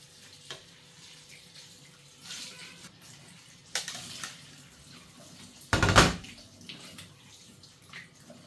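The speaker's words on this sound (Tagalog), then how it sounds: "Hugasan muna natin." Tap water runs over raw shrimp being washed in a kitchen sink for fermented shrimp rice, a steady soft splashing with one louder gush near the end.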